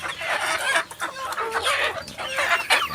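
Native chickens cluck busily during feeding, with overlapping close calls and chatter forming a continuous farmyard din.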